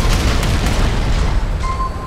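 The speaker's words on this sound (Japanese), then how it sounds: "キャノン砲命中だ。" Cannon shot landing a hit in the Figureheads mech battle game, a loud booming impact that rumbles low and dense for about two seconds, with a short game tone sounding near the end.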